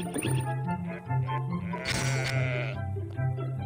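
A goat sent as a virtual gift in the Hago mobile game lets out a bleating call, repeated in a short wavering series over steady background music.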